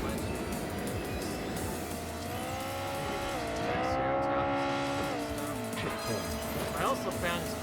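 Hot Wheels toy cars race in Hot Wheels Unleashed, with engines droning and shifting pitch steadily while a voice talks over the racing.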